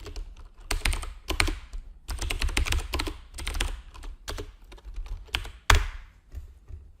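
Steady typing on a computer keyboard in a quiet room, with bursts of rapid key clicks, brief pauses and one louder keystroke near the end, no voices.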